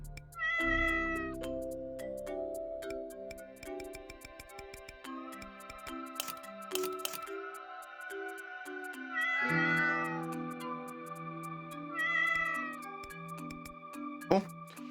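A cat meows in the game while True: learn(), several drawn-out cries sounding over a looping electronic music track, moderately loud and clear, with no talking.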